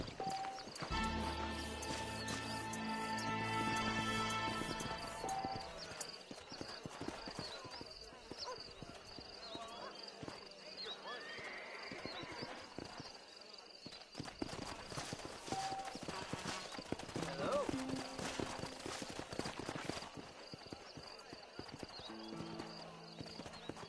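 Horse hooves clip-clopping in the Red Dead Redemption video game, a steady trotting rhythm with whinnies and neighs, set under game music, ambient sound and a talking voice.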